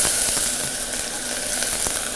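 Chopped onion hits hot oil in a pan, giving a loud, dense, continuous sizzle close up with a few faint clicks, no voices over it.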